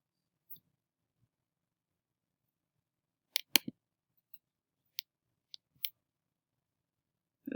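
A computer mouse clicking in a quiet room, a handful of sharp, sparse clicks with a quick double click, near and crisp against near silence.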